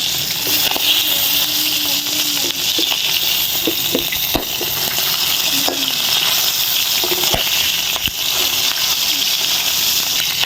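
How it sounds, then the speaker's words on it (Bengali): Tengra fish frying in hot oil in a covered pan, a steady broadband sizzle throughout with occasional pops and spatters, close and fairly loud, and a voice speaking over parts of it. "লাল লাল করে অবশ্যই ভাজবেন বন্ধুরা।"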